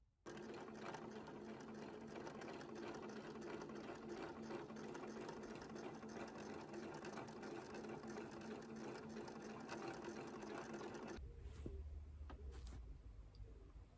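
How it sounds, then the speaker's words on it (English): Sewing machine running steadily for about eleven seconds, stitching rows about a quarter inch apart across small Liberty fabric scraps, fairly close and unbroken, then stopping into a quiet room hum. "I decided to stitch a few rows of stitching on my machine just to keep all the little pieces in place."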